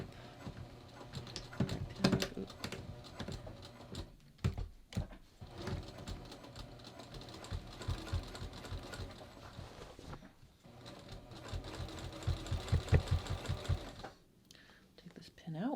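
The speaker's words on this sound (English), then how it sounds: "So again, I'm just going to sew" A sewing machine stitches denim, turning jeans into a skirt, running in quick close rhythmic bursts with short pauses between seams and a brief stop near the end.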